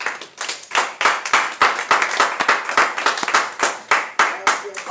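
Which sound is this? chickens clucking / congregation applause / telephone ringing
congregation applause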